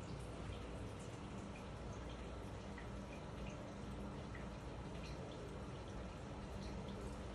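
Water running inside a museum rain house to imitate rainfall, heard as a soft, continuous patter and hiss of drops with faint scattered drips, steady and low in level throughout, with no voices.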